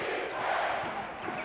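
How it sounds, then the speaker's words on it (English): A basketball arena crowd in a 1984 Lakers–Spurs game roars in a steady, dense wash of cheering, loud and sustained throughout with no voices standing out. "Crowd is in it now."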